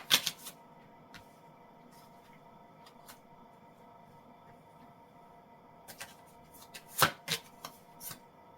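Message cards being shuffled, quiet at first, then short papery riffles and snaps come in small bursts at the start and again near the end, close and fairly soft, with no talking.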